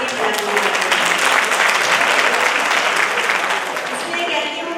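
Women in the audience at a large Hindi poetry gathering (kavi sammelan) clap together in a steady, dense wash of applause that holds for several seconds before easing slightly at the end.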